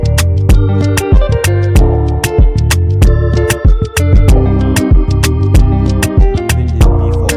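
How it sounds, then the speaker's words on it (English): An organ part played on a B4 organ plugin, with sustained chords broken by sharp, regular percussive hits in a loud, steady groove. "Then we have this organ that just comes in once in a while, and this is what the organ is playing."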